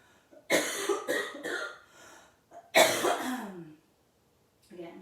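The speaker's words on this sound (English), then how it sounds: "I keep coughing into this" A person coughs in two harsh bursts, the first a cluster of rough hacks, the second a single strong cough, with a short throat sound at the end.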